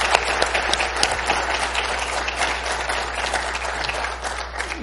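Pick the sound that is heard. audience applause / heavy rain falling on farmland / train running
audience applause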